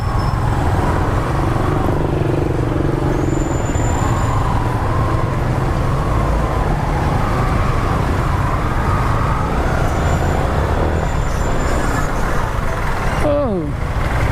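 Continuous road traffic in Sampaloc, Manila, with a loud steady rumble of engines from cars, buses and motorcycles passing close by and a brief horn-like sweep near the end.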